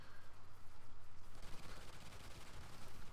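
Continuous rapid gunfire aimed at an alien hive in the Extinction mode of a video game, a dense, fairly soft rattle of overlapping shots that thickens midway and never pauses.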